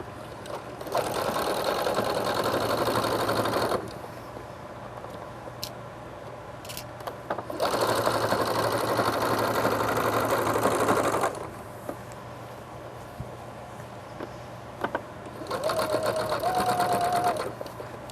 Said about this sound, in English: go easy on your machine as you're pushing it through because you are going through 4 layers of fleece